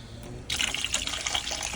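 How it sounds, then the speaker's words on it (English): Hot water pours from a kettle into a vehicle's shock absorber pump, a steady close splashing stream that starts abruptly and keeps running with a bubbling, watery texture. "hot water from the kettle."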